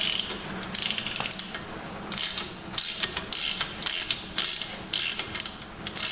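A ratchet wrench works the last bolt loose on a 1972 Homelite T12 garden tractor salvaged from a parts yard. Loud, close, repeated bursts of rapid clicking come in steady rounds with short gaps between them.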